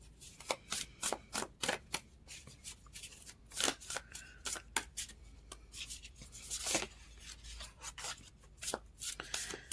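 Tarot cards shuffled and drawn by hand in a quiet room, making close, crisp riffling and sliding bursts in an irregular rhythm, with no talking.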